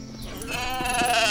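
A sheep that has run off bleats once in a long, wavering, close cry that swells louder toward the end, from a Playmobil children's film.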